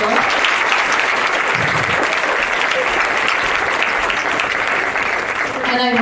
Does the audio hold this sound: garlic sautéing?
no